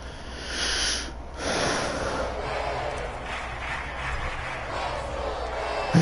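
A stadium crowd of Buffalo Bills fans roars steadily in the Madden NFL 22 football video game during the third quarter, a broad sustained wash of cheering that swells slightly near the start.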